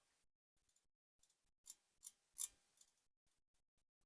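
Stainless steel 120-click watch bezel with a distressed finish being turned, giving a short run of faint, crisp clicks spaced unevenly with brief pauses, close up and otherwise quiet.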